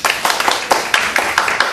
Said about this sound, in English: let's bring Kurt up with a round of applause